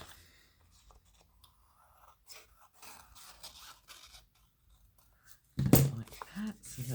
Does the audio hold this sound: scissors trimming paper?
yes